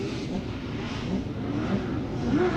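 LS-engined S14.5 drift car on Falcon tires at a Texas 2018 drifting qualifying event, its engine droning and revving steadily and loudly in the near distance, without audible talk.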